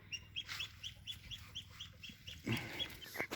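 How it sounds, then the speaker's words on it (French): A small bantam rooster of a dwarf breed clucks in a quick, rhythmic run of short, near, repeated notes. A brief louder rustle comes near the end, and there is no talking. "Donc lui c'est un coq sabelpout."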